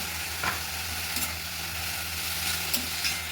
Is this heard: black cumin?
yes